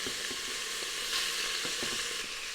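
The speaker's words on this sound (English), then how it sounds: "I'm just going to brown off the chicken and cook it through." Chicken pieces sizzle as they brown in a pan for Thai red curry, a steady close frying crackle with occasional stirring scrapes.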